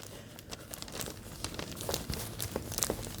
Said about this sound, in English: plastic bag time for smushing and smearing